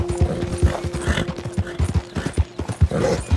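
Quick rhythmic clip-clop of a horse's galloping hooves in Red Dead Redemption 2, close and continuous, over a low steady background tone.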